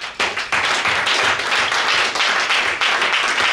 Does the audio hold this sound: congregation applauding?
yes